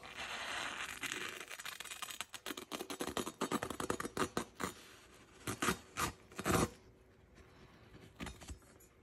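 A 1200-grit-sharpened S35VN steel knife edge slices through a paper towel in a run of quick, scratchy cutting strokes, close and fairly loud, growing sharper toward the end before fading out. No one speaks.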